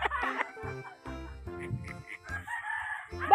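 A rooster crows a few times close by, bright drawn-out calls breaking through over farmyard noise, with people talking and laughing around it.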